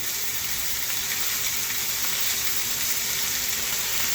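A steak's fat cap sears on a hot Blackstone griddle, giving a steady, close, loud sizzle that holds unbroken for the whole stretch with no talking.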